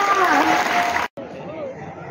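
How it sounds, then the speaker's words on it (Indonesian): Children in a classroom clap together after a literacy lesson, a dense burst of hands with voices mixed in, stopping abruptly partway through, then quieter room murmur. "Oke, tepuk tangan dulu untuk kita semua."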